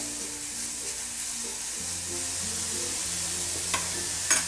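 Beetroot cooking in a pan over a low flame gives a soft, steady sizzle with a faint hiss, joined near the end by a couple of light clinks of a utensil.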